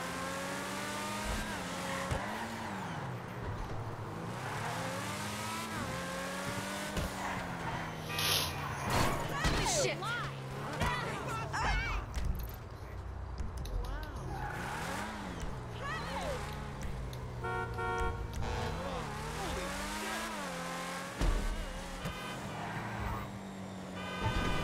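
A car is driven in GTA 5, its engine revving and rising and falling in pitch with occasional tire squeals, holding a steady level throughout.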